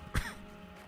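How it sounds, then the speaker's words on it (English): A single short cough, close and fairly loud, bursts out near the start, then gives way to a quiet background hum. "my cough is back and now it's just here"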